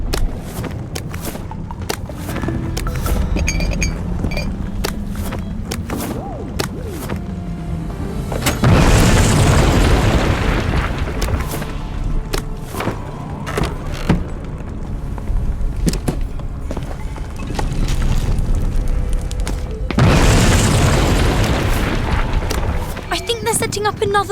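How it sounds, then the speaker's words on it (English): A tower blown up in the video game We Happy Few, with two heavy booming blasts a few seconds apart, each rumbling loudly over continuous game sound and footsteps. "I think they're going to blow up the tower."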